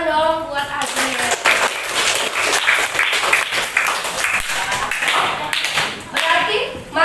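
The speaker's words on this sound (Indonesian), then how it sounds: "tepuk tangan dong buat Azriel" Classroom clapping, with students applauding a classmate in a loose, uneven burst of hand claps, fairly close, with voices talking and calling out over the claps throughout.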